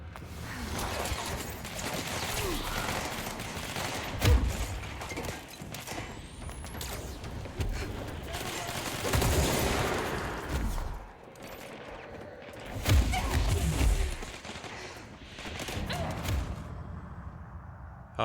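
Rocket weapon fire and blasts in the video game Control arrive as loud, rumbling impacts amid continuous combat noise, with several heavy bursts spread across the stretch.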